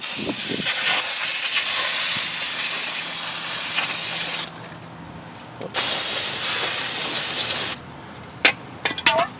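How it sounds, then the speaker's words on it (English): Brake cleaner sprays onto the hub of a 2001 Pontiac Grand Am during a front wheel bearing replacement, as two long, loud aerosol hisses of about four and two seconds, followed by a few short clicks and bursts. "So let's clean it off a little bit with some brake clean, some of the debris."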